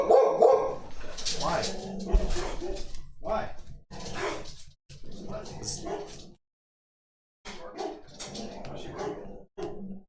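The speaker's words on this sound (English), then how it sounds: "Why is everybody barking? The dogs have mutinied." Dogs bark and yip indoors, with a burst of barking at the start, while people talk loudly over and between the barks.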